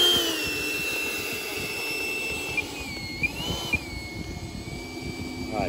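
Freewing 90mm F-22 RC electric ducted-fan jet on a 6S high-power setup taxiing out, a steady high-pitched fan whine whose pitch rises and falls with throttle, with a few small knocks.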